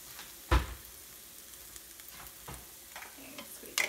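Chilies from a home garden frying in a hot pan, giving a soft steady sizzle with a sharp clack of utensil on pan near the start and a few lighter scraping stirs afterward, close and fairly quiet.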